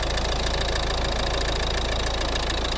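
Steady, even diesel clatter comes from the idling 1.6 D2 four-cylinder, code D4162T, in a 2012 Volvo V50. The note holds unchanged for a few seconds with no talking.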